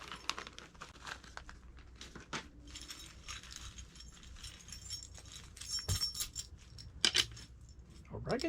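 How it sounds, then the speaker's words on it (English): A bag of motorcycle tools is grabbed and handled, giving scattered metallic jangles and clinks mixed with crinkling rustle. The sounds come close up and fairly quiet, in irregular bursts. "We'll grab a bag of tools."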